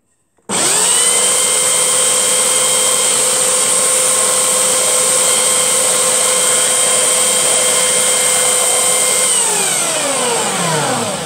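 A power sander grinds the end of a wooden piece, a loud close steady whine with a sharp start that holds for about nine seconds and then winds down as the motor slows, with no speech.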